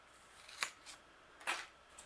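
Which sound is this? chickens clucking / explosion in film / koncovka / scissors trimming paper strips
scissors trimming paper strips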